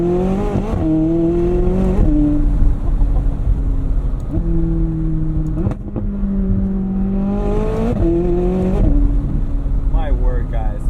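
A 2020 McLaren 600LT Spider engine and exhaust while driving with the top down, loud revs climbing and dropping through several gear changes, with a person talking over it.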